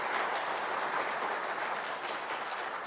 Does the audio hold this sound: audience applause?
yes